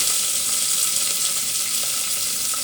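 Fenugreek leaves, ginger and garlic sizzle steadily in hot oil for aloo curry, a loud, dense, continuous frying hiss with no pauses or voices.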